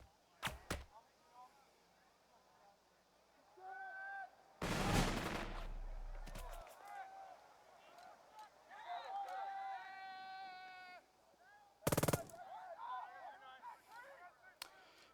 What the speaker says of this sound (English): But I did get to return fire